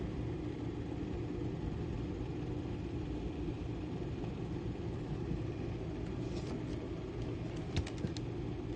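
A car pulls away on a rainy stormy night, its engine a low steady rumble blending with rain, with a few faint clicks near the end; no voices.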